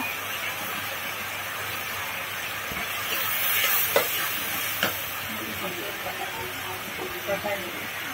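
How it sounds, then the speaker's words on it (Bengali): Spices with turmeric and chili powder frying in a pan for a home-cooked family dish, a steady broadband sizzle with a few sharp scrapes of stirring, close and fairly loud, with no talk. "বন্ধুরা এখন আম্মা কষাই নিচ্ছে।"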